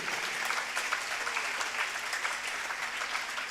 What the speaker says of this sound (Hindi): ये ताली किस लिए बजा रहे हैं?